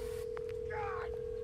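Phone dialing inside a Roblox horror game, a steady electronic tone with a short burst of beeps over it, game audio and some voice underneath.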